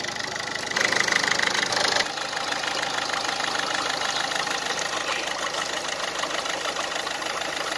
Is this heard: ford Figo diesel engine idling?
yes